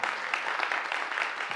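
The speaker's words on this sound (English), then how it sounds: "Let's give Mayor Lott a round of applause." An audience applauds a mayor at an MLK holiday conference, a steady wash of many hands clapping without pause throughout.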